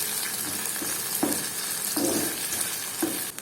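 Shallots and crushed garlic sizzling in a hot pan, a steady dense hiss throughout, broken by a few soft stirring scrapes, close by and with no talk.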